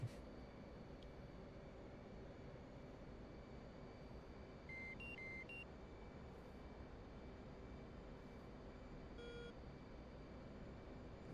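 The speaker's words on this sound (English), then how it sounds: "Every time I push the engine a little bit more, it just beeps like that." A faint electronic warning beep from the cockpit in the DCS flight simulator game sounds in a short cluster of tones midway, then once more later, over a steady low engine drone.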